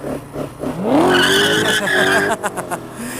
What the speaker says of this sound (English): I got a guy on a Corvette that just kind of lit it up. I'm sure you heard it.